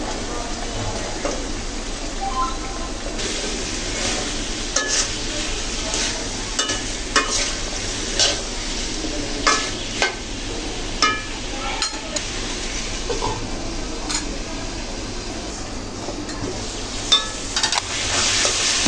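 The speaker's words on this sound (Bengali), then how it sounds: "সবজিগুলো কি সময় নিয়ে কষে নিচ্ছি" Potatoes and stalk vegetables being stir-fried in a pan for a small fish curry, with a steady sizzle and repeated scraping and clinking of a spatula against the metal, close up, and a voice talking faintly now and then.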